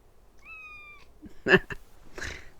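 A house cat chitters and meows close by, a short rising harmonic call followed by sharp chattering bursts and a breathy cry, with no talking over it.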